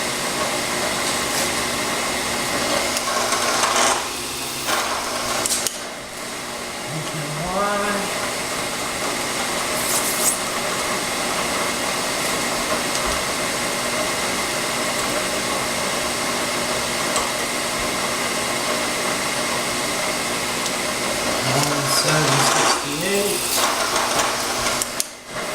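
Steady whirring milling machine drone runs throughout, loud and continuous, with brief rising tonal chirps of a spot drill cutting; a voice speaks briefly near the start and end.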